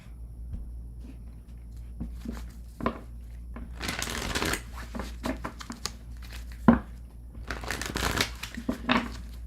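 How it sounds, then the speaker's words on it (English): Tarot card decks being shuffled, with bursts of riffling and papery rustling that come and go, loudest in the middle and near the end, with no speech. "I have 2 other decks to shuffle still"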